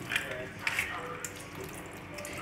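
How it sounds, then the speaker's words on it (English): Kitchen tap running steadily and faintly while green bananas are peeled, with soft splashing and small clicks close by. "as you can see, the water is running because it's best"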